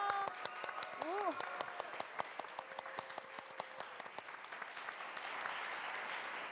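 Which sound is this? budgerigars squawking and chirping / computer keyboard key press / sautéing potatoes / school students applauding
school students applauding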